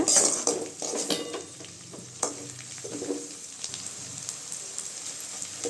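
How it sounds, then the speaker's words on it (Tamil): Onions sautéing for a country chicken gravy, a quiet close sizzle broken by spatula clinks and scrapes against the pan, no speech. "வெங்காயம் நல்லா இந்த அளவுக்கு வதங்கிடுச்சுங்க"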